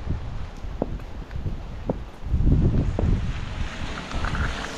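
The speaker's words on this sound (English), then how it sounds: "the wind's just now picking up" Wind picking up outdoors during a walk in the rain, gusting and buffeting the microphone with rumbling surges that swell louder toward the middle, mixed with occasional soft knocks and rustles.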